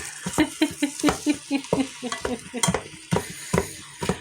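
Beef being seared in a pot for vegetable soup, rapid rhythmic scraping and clattering of a utensil over a bright sizzle, close and lively, with no voices.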